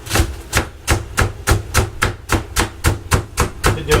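A knife chops celery fast on a cutting board, about eleven sharp, evenly spaced knocks in a steady rhythm, close and loud with no talk.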